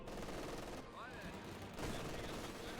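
Machine gun fire rattles in bursts across a dense Company of Heroes 2 battlefield, mixed with other gunfire and explosions, loud and continuous, while a commentator talks over it.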